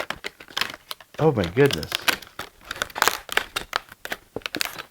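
Plastic blister packaging of a Kwikset SmartKey 980 deadbolt is pried and torn open, with crackling, crinkling bursts throughout, close and fairly loud, while a person talks over it.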